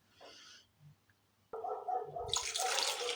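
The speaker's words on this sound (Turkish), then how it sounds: "Üzerine 2 su bardağı suyumu ilave ediyorum." Two glasses of water are poured into a bowl of bread dough ingredients, a close gush that begins suddenly after a quiet moment and keeps splashing steadily to the end.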